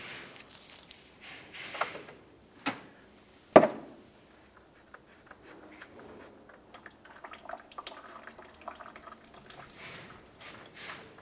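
Coolant drains from the bottom drain of a 2003-2011 Mercury Grand Marquis radiator into a receptacle, a faint trickle and splash with a few louder clunks early on and no voices.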